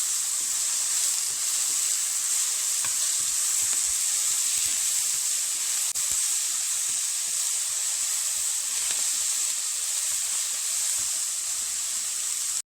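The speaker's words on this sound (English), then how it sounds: "we're going to saute and brown the onions and garlic just a little bit" Onions and garlic sauté in hot oil in a pot, giving a steady, loud, close sizzle and hiss that runs unbroken throughout with no talking.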